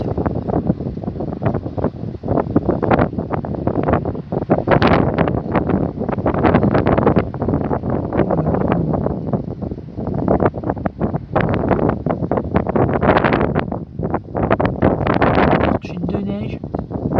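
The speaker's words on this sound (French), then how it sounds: "Des fortes bourrasques de vent." Strong wind buffets the microphone in loud, irregular gusts during a snowfall in Tour-en-Sologne, France, with a voice speaking intermittently beneath the roar.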